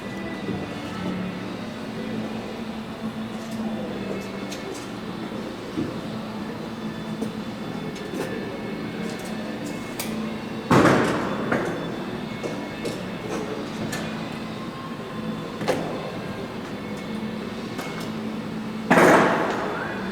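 Riveting on the fuselage skin of the Lancaster bomber NX611 during restoration, heard as a continuous clattering mechanical din in a large workshop with two sharp louder hits standing out.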